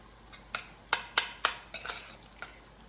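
A utensil stirs enchilada filling in a pan, giving a quick run of about eight sharp scrapes and clinks over a faint sizzle, close and without speech.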